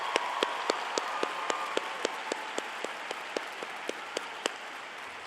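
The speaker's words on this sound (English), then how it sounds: "let's give a round of applause to your parents who have supported you throughout your" The audience at a high school graduation ceremony applauds, a dense crowd clapping with one nearby pair of hands beating out sharp, evenly spaced claps.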